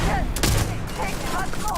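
Video game gunfire in Starfield rattles in a dense, steady fusillade of rapid shots, loud and continuous throughout, with a voice talking over it.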